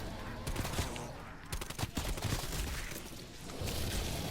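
An AS-VAL rifle, a modified AK-74u, fires in rapid bursts in the Cold War Zombies video game. The shots crackle steadily at moderate volume for several seconds.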